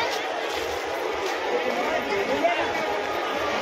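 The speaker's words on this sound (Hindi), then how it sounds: "भाई भीड़ तो बहुत तगड़ा है यार" A large crowd of pilgrims at a riverside bathing place in Ayodhya makes a steady, dense murmur of overlapping voices and movement that stays close and even throughout, with no single voice standing out.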